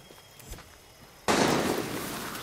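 Gunfire erupts in the video game Far Cry 6: after a quiet stretch, a single sudden sharp burst breaks out, followed by a loud, sustained noisy crackle.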